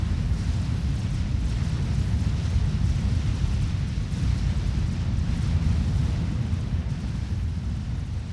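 Tech 2 flak shooting down massed aircraft in the strategy game Forged Alliance: a dense, continuous rumble of overlapping low booms and explosions, loud and unbroken throughout, with no voices.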